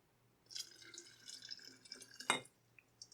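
Honey mixed with water, some of it crystallized, being poured into a container for dandelion mead, with soft trickling and drips followed by one sharp glassy clink and a few last drops.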